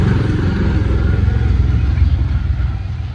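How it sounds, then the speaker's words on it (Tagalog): A motorcycle engine rumbles loud and close, a steady low throbbing drone that holds throughout and fades slightly at the end, with no voices. "Diyan narinig ko na yung motor."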